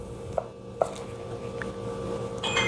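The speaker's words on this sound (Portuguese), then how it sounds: "Agora tem um alho aqui. Corta ele no meio." A kitchen knife slices a garlic clove in half on a cutting board, giving two or three soft, crisp taps spaced apart, close by and fairly quiet over a low room hum.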